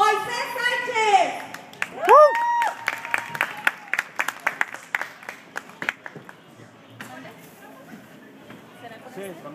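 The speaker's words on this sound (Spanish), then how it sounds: "¡Fuerte el aplauso!" Applause and cheers from a live crowd as a singer is introduced at a concert, a strong burst early that thins into scattered, fading claps while a voice and musical tones sound over it.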